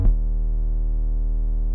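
A Sublab XL synth plays a sub bass note through a filter with key tracking, a short attack followed by a steady, smooth, sustained low tone held alone without talk.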